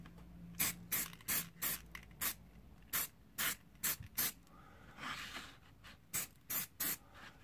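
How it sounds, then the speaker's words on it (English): An aerosol can of varnish sprays onto model lineside cable trunking from a couple of inches away in short, close, hissing bursts, about a dozen quick puffs with one longer, softer spray partway through. "applying from a distance of a couple of inches, just a good spray"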